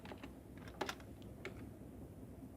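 Someone types a short command on a computer keyboard, producing a few light, close key clicks, including one brief double tap, over a faint steady background hum with no speech.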